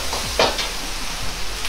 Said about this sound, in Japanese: 焦げないように弱火で炒めます